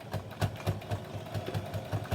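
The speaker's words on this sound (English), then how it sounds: "I like to back stitch here several times" A sewing machine back-stitches a water bottle strap, its needle thumping in a steady rapid rhythm, close and fairly quiet, with no voices.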